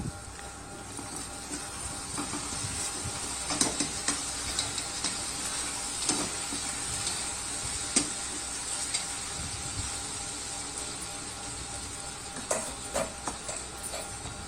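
Okra frying in a pan, a constant soft sizzle broken by scattered clinks and scrapes of a spoon stirring, close and moderately quiet.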